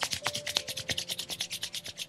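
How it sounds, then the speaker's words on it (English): Palms rub briskly back and forth together during a yoga session, a steady run of about a dozen soft, close swishing strokes with no talking. "Rub your palm together."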